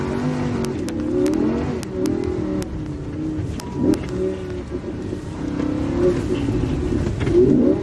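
A Lamborghini Huracan drifting on snow over a frozen lake, its engine loud and close, revving up and down in surges as the throttle is worked, with no talk over it.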